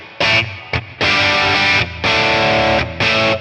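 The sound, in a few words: guitar through 1963 Fender Brown Deluxe amp, crunch bright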